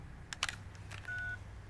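A telephone sounds after a call has been cut off: a few quick dial-like beeps, then a single short steady tone, faint over low room noise.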